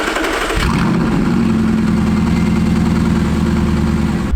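A 2008 Audi R8 V8 fires up after a brief quiet moment, then settles into a steady, loud idle with a deep rumbling drone that holds close and even to the end.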